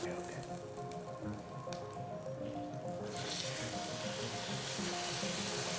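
A dry-aged pork steak sizzles in a frying pan with a steady, close, crackling hiss that grows louder partway through, while faint voices murmur underneath.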